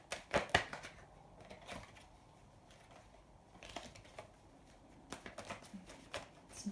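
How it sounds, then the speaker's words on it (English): Tarot cards being shuffled in quick riffling bursts, with quiet pauses between, close up and fairly soft. "It's not giving me a very good shuffle."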